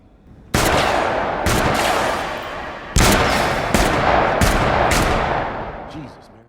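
Gunshots fire in a movie gun range scene: a few loud, sharp rounds spaced about a second apart, each with a short ringing tail, over steady background noise.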